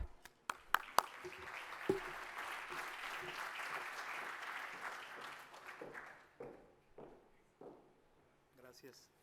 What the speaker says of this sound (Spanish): Le damos la bienvenida con un aplauso, por favor